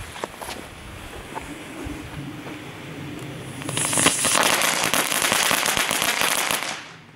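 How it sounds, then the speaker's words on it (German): Crackling firework balls with meteor filling burst outdoors, a dense, loud crackle of rapid snaps building from about four seconds and sustaining before cutting off, after a quieter stretch of scattered pops. "Nun 2 Blitzknatterbälle."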